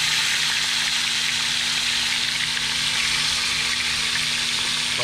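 Red snapper sears in a hot pan for caldo, giving a steady, loud sizzle of frying fish that holds evenly throughout, with no talking.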